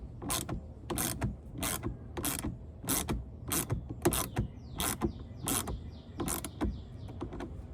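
Twelve evenly spaced ratcheting clicks as a hand ratchet tightens fasteners on Roush rear side splitters on a car, close and crisp, each burst a short mechanical rattle with quiet pauses between and no talk.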